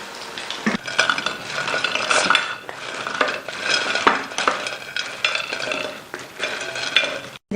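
Garlic pakoras frying, with steady close sizzle and repeated clinks and scrapes of a utensil against the pan all the way through.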